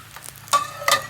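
Tostadas frying in a little oil on a Blackstone griddle give off soft sizzling that swells into two louder hissing bursts, close and alone with no voices.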